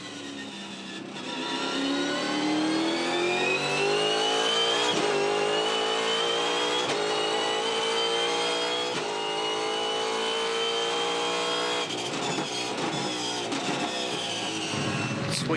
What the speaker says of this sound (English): Sweet sound of the V8 Supercars Symphony